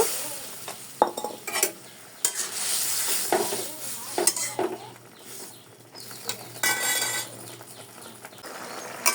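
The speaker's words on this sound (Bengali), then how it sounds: "এখন এই ডালটা একটু সুন্দর করে কষাতে হবে" Dal with chickpeas and young jackfruit stirred and frying in a pan in a Bengali village kitchen, with repeated spoon scrapes and clatters over a steady sizzle, close and fairly loud, no talking.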